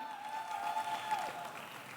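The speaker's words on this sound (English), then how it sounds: "Please keep clapping till she gets up on stage." Audience applause at a conference event fills the room with a soft, continuous patter, heard faintly from a distance beneath a steady tonal hum.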